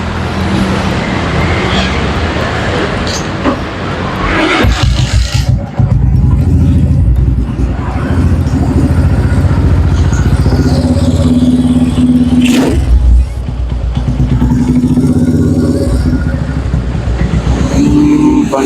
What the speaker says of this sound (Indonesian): Suara knalpotnya lumayan enak.